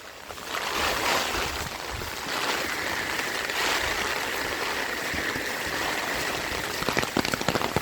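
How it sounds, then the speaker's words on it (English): Rainwater gushes steadily out of a pop-up drain at the end of a downspout line, a continuous close splashing rush that holds an even level throughout. "Look at the water flowing out at this pop-up."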